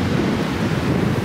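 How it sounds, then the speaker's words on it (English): Wind blows hard across an outdoor hiking spot, buffeting the microphone with a dense, continuous low roar and no voices. "Windy, but fun."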